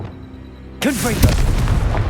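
A Confringo blasting spell in Hogwarts Legacy goes off after a stretch of low ambience, a sudden loud boom with swooping whooshes, then a second burst and rumbling debris.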